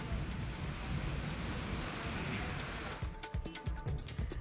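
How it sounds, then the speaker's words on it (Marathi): Heavy unseasonal rain pours down in a dense, steady hiss. After about three seconds it turns more uneven, with distinct drops spattering on a nearby surface. "जिल्ह्यात काही ठिकाणी पावसाच्या जोरदार सरी कोसल्या आहेत"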